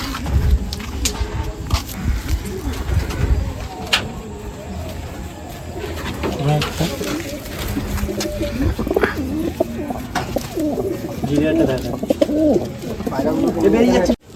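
Madrasi pigeons coo steadily and close by, soft repeated calls blending with rustling and other bird noises throughout, while someone talks over them at length.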